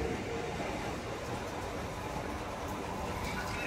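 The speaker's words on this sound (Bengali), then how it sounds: "আমাদেরকে নামিয়ে দিয়ে ট্রেন চলে যাচ্ছে। Tata bye bye train, Bongaon local." A Bongaon local train pulls out of platform 2 at Bisharpara station, a steady, close, loud roar of wheels and carriages with no pauses.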